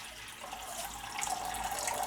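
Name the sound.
water poured off granulated gold into a pan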